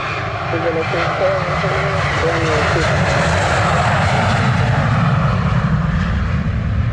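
A jet airliner roars steadily at Montego Bay airport, a loud, continuous broadband engine rumble filling the whole stretch, with air traffic control radio talk heard faintly over it early on.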